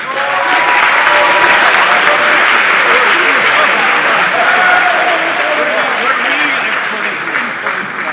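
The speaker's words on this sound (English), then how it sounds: "Please give one more round of applause to our 4 seniors." Sustained audience applause at a boys varsity high school basketball game honoring four seniors, loud and dense clapping throughout with crowd murmur mixed in.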